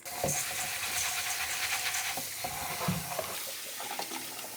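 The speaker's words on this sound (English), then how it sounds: "I'm gonna rinse the lentils off." Lentils are rinsed under a running kitchen tap, a steady faint stream of water with soft splashes and clicks of grains being stirred, no talking.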